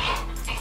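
A dog gives a single short, deep bark up close, loud and brief.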